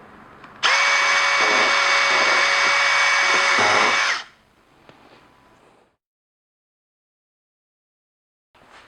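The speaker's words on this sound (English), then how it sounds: "I don't need to take the panel down to drill the pilot holes for all 6 holes" A power drill bores a pilot hole through a wall-mounted pegboard panel in a garage, whining loud and steady for about three and a half seconds before spinning down, then quiet.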